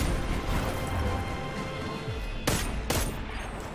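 Fast-firing Forge weapon in Destiny 2, with a steady loud stream of rapid gunfire and two sharper, heavier blasts near the end.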